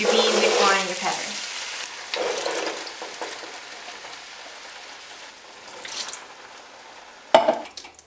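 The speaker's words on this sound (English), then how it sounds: "Mix that all together really well" Beans, corn, peppers and jalapenos for a vegetarian chili are stirred together in a pot, a scraping, sizzling swirl at first, then quieter scrapes and a sharp clank near the end.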